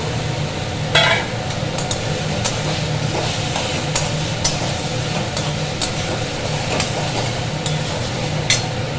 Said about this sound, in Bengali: কিছুক্ষণ কষাবো এখন মশলাটা। তেল ছেড়ে দিয়েছে